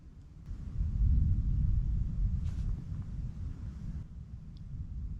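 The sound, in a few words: distant thunder in canyon country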